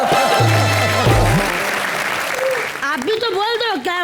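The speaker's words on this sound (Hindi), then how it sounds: "जोरदार तालियां" Loud studio audience applause on a comedy show, dense clapping that overlaps a voice and musical stings, then fades as talk resumes.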